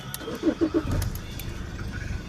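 A 2003 BMW 320td E46 Compact diesel cranks and fires on the first try, a short starter whir settling into a low, steady idle close by, with a little key jangle at the start.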